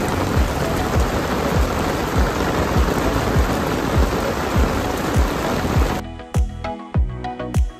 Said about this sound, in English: In the middle of the downpour, which was quite eventful